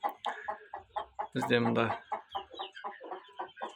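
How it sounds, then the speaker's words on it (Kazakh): Chickens and chicks on a farm, close rhythmic clucking and cheeping with one louder drawn-out squawk in the middle, while a person talks briefly. "бүкіл тауық балапан бәрі араласып кетті"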